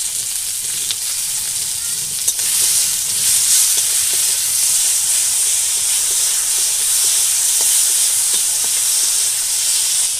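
Tomato and green chili fry in a pan with a continuous bright hiss and sizzle, broken by a few light clicks of stirring, steady and close.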